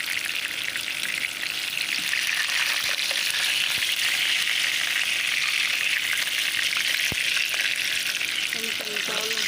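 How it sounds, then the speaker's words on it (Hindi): Aloo kofta deep-frying in hot oil, a dense, continuous sizzle that stays loud and even throughout, with occasional faint clicks from handling in the background. "फ्राई हो गए, इनको निकाल रही हूँ।"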